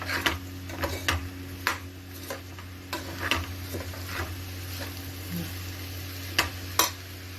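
Mixed jeera and sona masoori rice frying in a pan for chicken donne biryani, a soft steady sizzle under a low background hum, with sharp spoon taps against the pan at irregular intervals.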